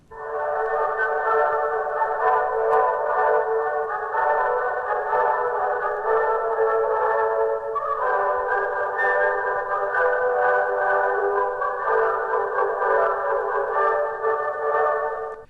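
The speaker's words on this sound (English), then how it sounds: "Listen to the orchestra as it might have sounded on an early phonograph record." Band-limited orchestra music that is thin and boxy, like an early phonograph record, with its high and low ranges filtered away and the middle band between about 375 and 2,000 cycles per second kept. It plays steadily and alone throughout.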